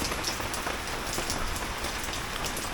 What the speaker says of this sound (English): I hope you can hear this, by the way, with all the rain.